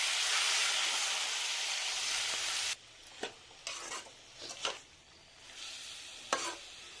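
Chopped tomatoes land on fried onions in a pan. A loud, steady sizzle runs for about three seconds, then quieter stirring follows with a few sharp scrapes and bursts of hiss.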